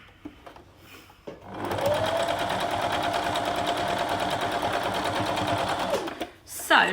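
A sewing machine stitching quilt patches starts after a brief pause and runs in a fast, steady whirring rattle for about four and a half seconds, then stops, with a person talking before and after.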